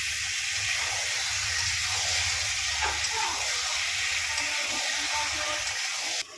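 Chicken hearts sizzling and hissing in a pan as they are sautéed in spice masala, with a steady, close frying hiss and occasional stirring sounds throughout.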